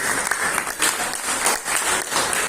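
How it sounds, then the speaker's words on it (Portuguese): A church congregation breaks into loud, continuous applause, with dense overlapping clapping filling the room and no clear speech over it. "Dá uma salva de palmas na vida da Risa, em nome de Deus."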